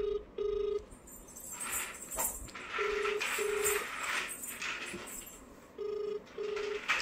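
Phone ringback tone after redialing a call: evenly paired beeps repeat in short bursts, heard over a busy, fairly loud room background.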